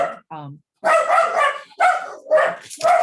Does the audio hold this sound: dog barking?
yes